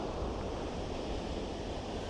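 Steady sea surf washes along the Wales coast near Stackpole and Tenby, a broad, even rush of waves with wind, no distinct breaks, no voices.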